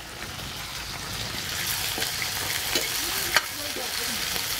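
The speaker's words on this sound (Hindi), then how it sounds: "अब हम ग्वाली को भी तलेंगे।" Cluster beans (guar) frying in hot oil after potatoes, a dense continuous sizzle close up, with stirring scrapes and a couple of sharper clicks of a utensil against the pan.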